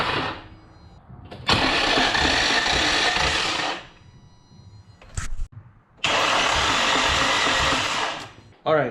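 An Infiniti G35's VQ35DE engine cranks over on the starter during a compression test, with two long, loud, even cranking runs of a few seconds each, separated by a quiet pause and brief clunks.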